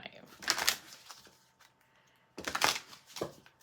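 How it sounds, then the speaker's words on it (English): Two bursts of crisp, papery riffling as a deck of cards is shuffled, separated by a quiet pause, close by. "One more shuffle."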